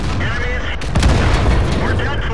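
A tank explodes into a fireball in World of Tanks, a heavy boom that rolls out into a rumbling blast over a continuing gameplay din, with someone talking throughout.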